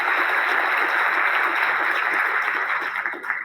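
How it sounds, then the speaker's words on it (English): A lecture-hall audience at a psychology class applauds volunteers coming up, a thick continuous wash of clapping, loud and steady before tapering slightly at the end. "give them a round of applause as they come up"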